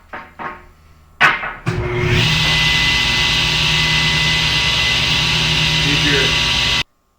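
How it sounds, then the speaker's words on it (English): A wood planer running on a board during a Ford Transit van cabinet build: a few knocks and clunks, then the machine starts up and holds a loud, steady, close whine and roar for about five seconds before cutting off abruptly. "when you send it through the planer, you're going to take a 1/16 off each side"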